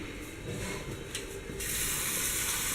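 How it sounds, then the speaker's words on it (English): Running water from a kitchen tap spraying over crayfish as they are rinsed before cooking. A soft hiss is heard at first, then the flow grows louder and steadier partway through. "We are going to rinse our crayfish."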